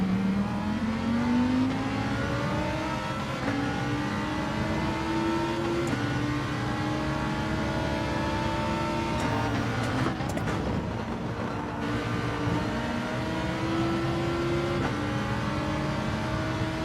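Race car engine in Gran Turismo 7, droning steadily through a lap with rising and falling pitch as it accelerates and shifts, loud and continuous without any talking.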